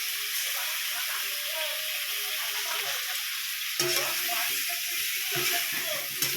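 Ground cumin, chilli, turmeric and coriander sizzle and fry steadily in a pan for a home-cooked lunch, a close, continuous hiss broken by occasional stirring scrapes.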